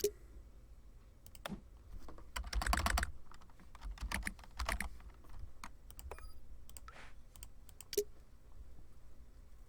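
Rapid light tapping as a code is entered on a phone in the Doctor Who: The Lonely Assassins game, a quiet, uneven run of clicks and taps bunching into quick clusters with brief pauses.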